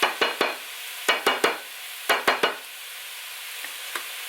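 Ground meat being stirred and broken apart in a pot for lasagna soup, with groups of sharp scraping knocks from the utensil in clusters of two or three over a soft sizzle, close and without talking.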